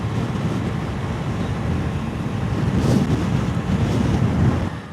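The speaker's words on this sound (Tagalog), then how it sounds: "Dito medyo malakas yung alon." Strong ocean waves surge and wash continuously near the coast at Xuhai, mixed with steady wind buffeting the microphone, swelling louder toward the end with no voices.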